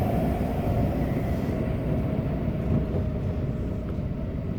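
A Hanshin Line train runs above ground near Nishikujo in Osaka. A heavy, steady rumble of wheels and car noise fills the whole stretch, heard from inside the carriage with no talking.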